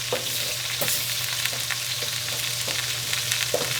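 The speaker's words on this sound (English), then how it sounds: "I'm kind of breaking it apart with my spoon" A spoon stirs and breaks up pâté in a hot pan, producing a continuous low sizzle with soft, regular scraping taps, close by and moderately loud.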